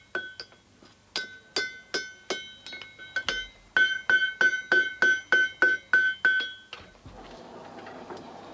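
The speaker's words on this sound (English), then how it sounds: "hammering the red-hot iron into shape." A farrier hammers red-hot iron into a horseshoe at his smithy, a quick run of about fifteen close, ringing metallic blows on the anvil in a steady rhythm, then a pause and a softer rustle.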